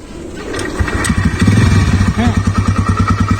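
A motorcycle engine cranks and catches close by, settling into a loud, even idle with a rapid, regular putter.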